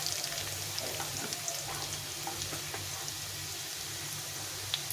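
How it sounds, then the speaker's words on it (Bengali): Potatoes fry in hot oil with a steady, close sizzle and crackle, quiet and continuous, with faint stirring scrapes now and then and no voices. "আলুটাকে ভালো করে লাল লাল করে ভেজে নিতে হবে।"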